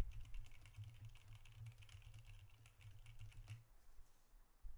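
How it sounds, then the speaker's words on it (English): Soft, rapid computer keyboard typing clatters steadily under a constant low fan hum, faint and close, picked up by a SteelSeries Alias microphone, trailing off near the end. "How about if I'm typing?"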